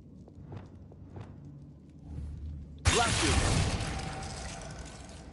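A Confringo fire spell in Hogwarts Legacy bursts with a sudden loud blast and crackling roar that lingers for a couple of seconds, after quieter footsteps and a faint voice.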